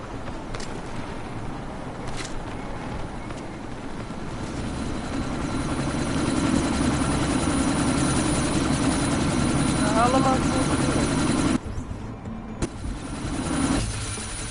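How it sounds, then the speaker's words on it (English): A helicopter in the Deus Ex video game spins up for takeoff, its steady rotor and engine drone building louder over fourteen seconds, with game dialogue voices talking over it and a brief cut near the end. "That chopper's about to take off."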